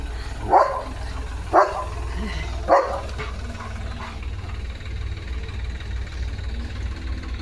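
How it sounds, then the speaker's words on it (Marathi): Three sharp barks from a German Shepherd at a tractor ring out one after another, then stop, over the steady low hum of the idling tractor engine. "ट्रॅक्टरला भुंकतोय"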